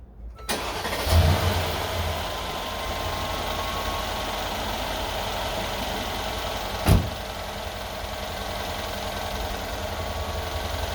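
A 2013 Mercedes SL550 V8 cranks and fires, then settles into a steady, smooth idle close by, with one sharp knock-like transient partway through.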